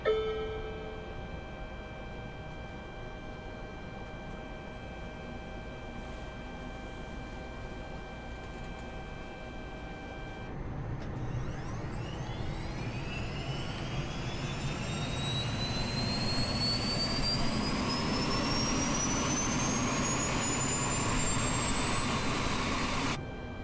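Eurocopter EC135 helicopter turbine engines spool up from a steady electrical whine in Microsoft Flight Simulator 2020, a rising whistle building into a loud, continuous rushing roar that holds on with no voices.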